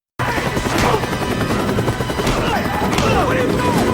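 Helicopter rotor noise mixed with bursts of gunfire and crashes in a prison-takeover action movie scene, dense and loud throughout with shouting voices faintly woven in.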